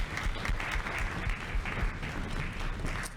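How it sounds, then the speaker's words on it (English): Applause from the audience at a high school orchestra concert, a steady dense clapping that fills the room and holds at an even level for a few seconds. "can we please give a huge round of applause for our parents and families in the audience?"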